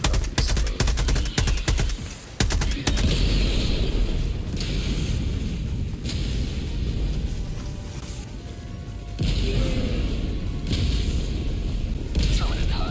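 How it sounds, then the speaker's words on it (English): An orbital barrage pounds the ground in a video game: a rapid cluster of loud, sharp explosions at the start, then heavy rumbling booms and debris roar that continue in waves. "Firing orbital barrage."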